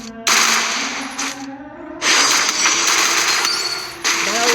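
Rapid bursts of video game gunfire, loud bright rattling volleys broken by short gaps, with faint tones between the bursts.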